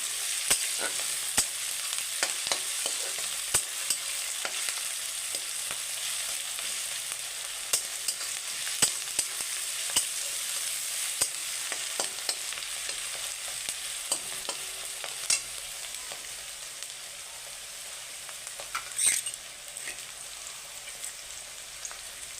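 Onion and carrot fry quietly in a pan, a soft, even sizzle dotted with small crackles and light stirring clicks throughout.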